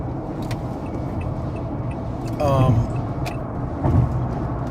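A car drives and merges into road traffic, giving a continuous low road and engine rumble inside the vehicle. Someone talks over it, with a couple of brief louder swells from passing traffic.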